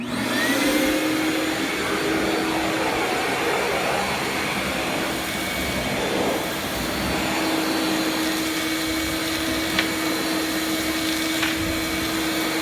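A shop vac fitted with a DIY cyclone dust trap runs steadily and loudly, sucking debris off a floor, its motor whine holding a constant pitch with occasional rattles and ticks of material being drawn in.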